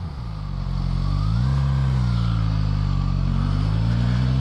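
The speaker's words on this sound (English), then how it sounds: "It's got a nice little grumble for a stock exhaust." Suzuki GSX-S1000 motorcycle from 2016 on its stock exhaust, a steady close-up engine grumble that swells slightly as it revs, with a low rumbling drone continuing throughout.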